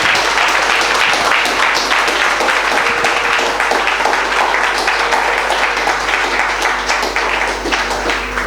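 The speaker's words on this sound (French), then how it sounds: "Acclamons-le" Church congregation applauding and cheering together at a worship service, a dense, steady wash of clapping that fills the whole stretch at full loudness without a break.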